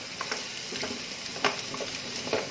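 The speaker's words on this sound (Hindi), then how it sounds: "अब इसमें ये कटे हुए शलगम डाल देंगे और इन्हें भी 5-6 मिनट अच्छे से भून लेंगे।" Chopped turnips sizzle and fry in a pan over medium heat, with soft scraping ladle strokes stirring them at intervals; steady, fairly quiet crackle with no talking.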